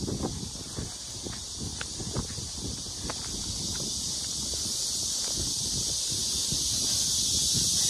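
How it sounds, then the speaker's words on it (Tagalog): Strong wind roars steadily outdoors, a broad hiss growing louder over several seconds, with scattered rustling and knocking sounds close by. "Lakas ng hangin."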